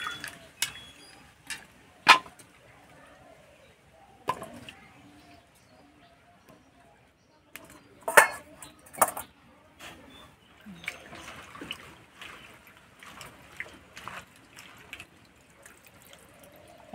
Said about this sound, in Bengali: শাক আর আলু ধুয়ে নেব।